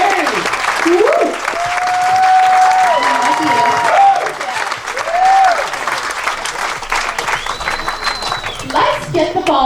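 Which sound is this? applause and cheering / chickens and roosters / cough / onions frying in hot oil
applause and cheering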